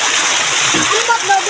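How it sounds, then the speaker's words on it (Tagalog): A waterfall on an outdoor trip gives a steady broadband rush of falling, splashing water, close and loud, with a person's voice speaking over it during the brief moment. "Pangalawang falls."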